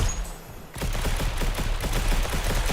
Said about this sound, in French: je me suis fait rafale par deux gars là